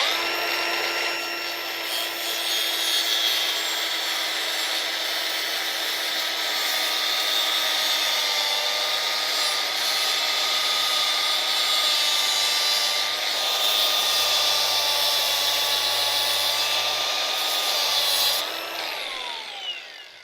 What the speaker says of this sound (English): So basically you take your angle grinder here and cut through the line.